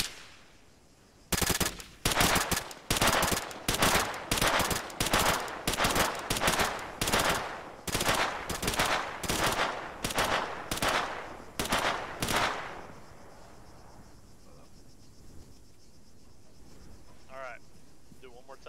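Rapid bursts of automatic gunfire in the video game Arma 3 repeat steadily, about a dozen sharp volleys in a row, loud and close, then fading to quiet ambience.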